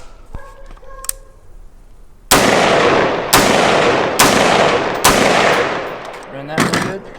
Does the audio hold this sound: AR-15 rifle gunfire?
yes